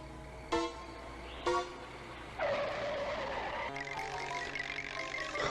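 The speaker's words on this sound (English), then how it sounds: "put brake noises in there?" Car brake sound effect in a cartoon show: two short squealing tonal bursts, followed by a longer, louder screech that continues over a rumbling engine to the end, with no talking.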